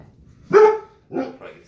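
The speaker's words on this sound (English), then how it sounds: "That's my dog in the background." A pet dog in a home kitchen during barbecue prep lets out two sharp, fairly close barks, the first louder and the second a quick double, with no talk over them.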